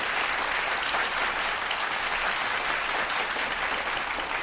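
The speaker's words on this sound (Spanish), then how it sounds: "Denle un aplauso al Señor." A church congregation claps together in a dense, steady wash of applause that carries at even loudness from start to finish, with no voices rising above it.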